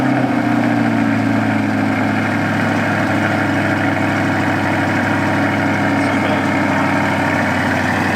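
A 2020 C8 Corvette convertible idles steadily after a cold start, its deep, even engine rumble loud and close without a break for about eight seconds, with no talking over it.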